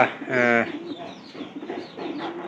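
A short pigeon coo from birds in a newly built pigeon house rises briefly near the start, close by, then gives way to quieter murmuring and talk.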